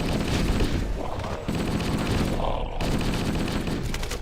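Needler fire from the Halo: Combat Evolved video game on Heroic difficulty, rapid bursts of crystalline shots with loud, continuous gunfire and blasts that fill the whole stretch.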